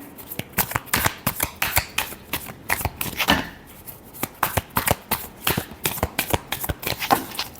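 Tarot cards shuffled by hand during a reading, giving quick, close riffling clicks and snaps in uneven bursts that repeat steadily, with no voices.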